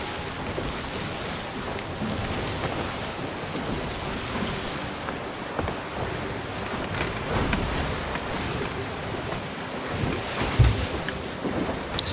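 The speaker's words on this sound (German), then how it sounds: "Es ist schon sehr stürmisch." Stormy wind buffets across open sea in the game Sea of Thieves, with waves churning and surging around a sailing ship in a steady, loud roar marked by occasional heavier gusts and splashes.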